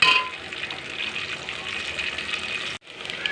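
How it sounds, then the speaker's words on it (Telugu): Lentils and peanuts roast in a hot pan, giving a steady dry sizzling and rattling hiss with a brief cutoff near the end, no talk. "వేయించుకోవాలి. పల్లీలు కూడా వేసుకొని"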